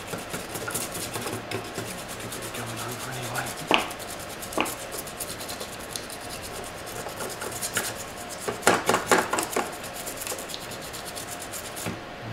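A brush scrubs mineralised flux residue off the back of a mains inverter circuit board, a steady close rasping rub with a few sharper scratchy bursts, with no talking.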